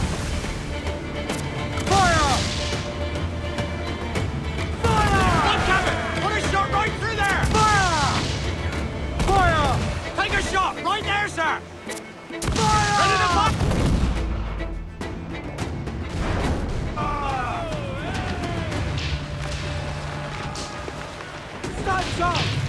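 Cannon fire booms repeatedly during a ship battle in Assassin's Creed 4 Black Flag, heavy blasts and crashes mixed with shouting crew voices and game music, loud and dense throughout.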